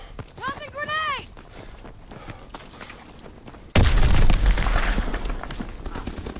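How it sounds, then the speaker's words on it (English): A grenade explosion in Call of Duty WWII multiplayer hits as a sudden loud boom partway through, followed by sustained rumbling battle noise; a voice shouts just before the blast amid footsteps. "Tossing grenade!"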